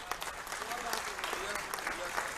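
An audience at a mushaira in Houston claps continuously, a dense, lively patter of many hands filling the room, with a voice speaking over it.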